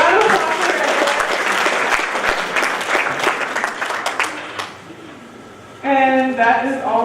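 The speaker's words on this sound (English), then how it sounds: "But round of applause for her." An audience at a church youth ministry gathering gives steady, moderately loud applause lasting several seconds, which fades out before a voice begins speaking.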